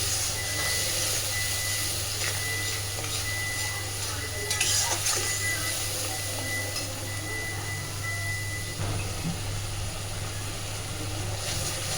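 Spice paste sautéing over a medium flame in a pan for Shahi Katla, a Bengali fish dish, giving a steady sizzle with occasional stirring scrapes and a low constant hum underneath, sustained throughout.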